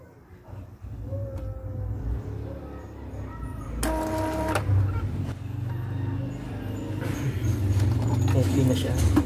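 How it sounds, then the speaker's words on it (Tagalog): An Epson EcoTank L3210-series printer running a head-cleaning cycle, with a low mechanical whir, clicks and brief tonal motor whines rising and falling, while a person talks over it. "Mag-start na mag-head clean."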